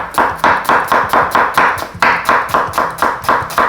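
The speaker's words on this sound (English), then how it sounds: "So you cut your onion, peel them" A knife chopping onion on a cutting board makes quick, evenly spaced thuds, close and loud, in two steady runs separated by a brief pause.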